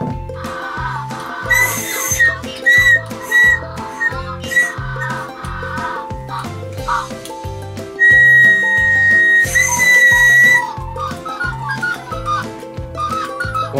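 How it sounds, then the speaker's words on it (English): A toy whistle sounds a high steady tone over the looping electronic tune of a Digi Penguins igloo playset. The whistle comes in several bursts, with one long loud blast near the middle. "if you blow your whistle"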